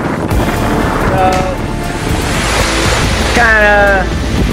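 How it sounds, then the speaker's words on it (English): Ocean waves and wind surround a sailboat crossing the Pacific on the high seas, a loud continuous roar of surf and wind buffeting with brief tonal squeaks from the boat. "Got a little bit of wave action out there."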